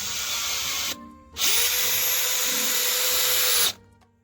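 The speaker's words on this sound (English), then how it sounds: "Kind of countersunk that one a little bit, but it's not coming out on the other side" A power drill drives a countersunk screw into wood, two bursts of whirring: a short run, a brief pause, then a longer sustained spin that stops abruptly.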